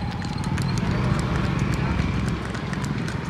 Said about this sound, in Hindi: ये तो घोड़ा घोड़े जैसी चाल कर रहा जी